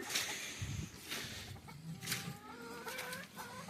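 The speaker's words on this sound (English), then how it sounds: "You can hear them in there. We'll start with the chickens." Chickens cluck repeatedly nearby on a homestead, several birds overlapping in short uneven calls against a quiet outdoor background.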